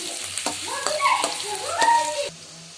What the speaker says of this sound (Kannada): ಇವಾಗ ಇದಕ್ಕೆ ಈರುಳ್ಳಿ ಆ್ಯಡ್ ಮಾಡ್ಕೋಬೇಕು ಈರುಳ್ಳಿ ಸ್ವಲ್ಪ ಕೆಂಪಾಗೋವರೆಗೂ ಬೇಯಿಸ್ಕೋಬೇಕು